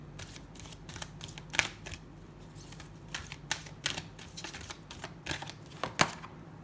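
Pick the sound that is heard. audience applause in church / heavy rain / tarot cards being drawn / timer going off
tarot cards being drawn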